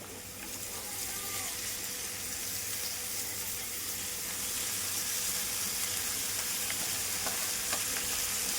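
Amaranth leaves fry in a pan with a steady, close hiss and crackle of oil that holds evenly throughout, with occasional light stirring clicks.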